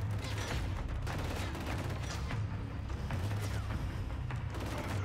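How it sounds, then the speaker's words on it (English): Dense gunfire from the Killzone: Shadow Fall video game rumbles on without pause, overlapping bursts and booms forming a continuous, fairly loud barrage with no talking. "Where are they shooting me from?"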